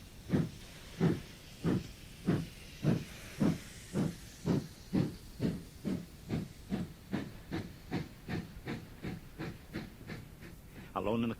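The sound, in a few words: steam train hissing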